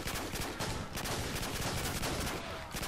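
A shotgun fires in Call of Duty 4: Modern Warfare, loud repeated blasts close together over a constant din of in-game gunfire across a few seconds.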